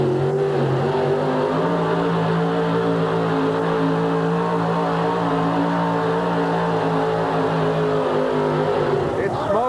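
The Stubborn Mule monster truck's engine strains at a monster truck event in Hartford, a loud, sustained droning roar with wavering harmonics, while an announcer talks over it.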